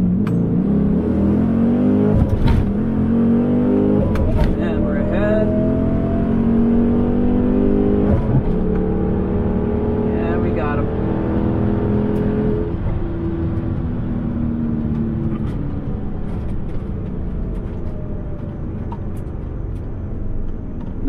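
A modified naturally aspirated 5.7 Hemi roars hard under full throttle in a drag race against a Camaro, its loud, steady engine note climbing through gears with a shift break partway, close and continuous throughout.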